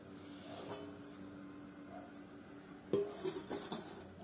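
A pot of kaleji masala gets covered with a lid, giving a single sharp metallic clank followed by a few lighter rattles as it settles, heard close against a quiet kitchen background.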